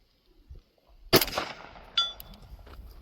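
A single sharp gunshot from a Sig Sauer SXG steel frame pistol lower with a Grayguns Lockwood upper, fired at an outdoor range toward a target near 150 yards, cracking loudly and ringing off into a decaying tail, followed by a fainter distant metallic ping.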